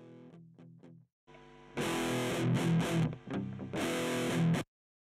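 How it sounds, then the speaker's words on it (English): Electric guitar played through an amp on its modern red channel with heavy distortion: a few clean-ish picked notes, a short pause, then loud, thick chugging distorted chords that stop abruptly, with no talking. "we'll get some really sick distortion going on here in a second."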